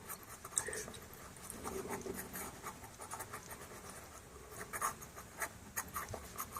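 Pastel pencil scratching and rubbing on paper while drawing a sea lion, a close, soft, continuous scratchy texture of short strokes with no talk.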